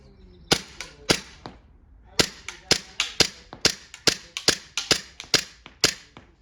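An airsoft Glock replica pistol fires about fifteen sharp, loud cracking shots at an uneven, fairly quick semi-automatic pace, with a short pause after the first few.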